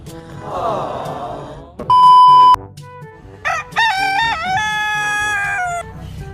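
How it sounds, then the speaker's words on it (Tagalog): Loud bird calls sound in separate bursts, including a long crowing cry, set against a quiet background with low murmuring. "Mga ibon lang pala."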